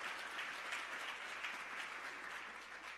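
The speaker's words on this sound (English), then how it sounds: "Give her a round of applause." At the E Pluribus Unum launch, a crowd gives Lorene Powell Jobs a faint, distant round of applause, a soft, even wash of many hands clapping for about three seconds.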